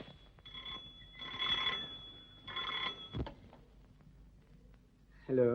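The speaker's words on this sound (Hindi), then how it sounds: "ये उसी का फोन होगा" An old-fashioned telephone bell rings in two sustained bursts separated by a pause, moderately loud in a quiet room, followed by a thump and a brief bit of speech at the end.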